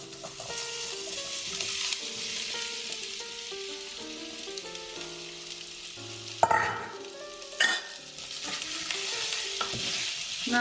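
Potatoes frying in hot oil, giving a steady, bright sizzle throughout with a couple of louder bursts partway in, heard alongside soft background music.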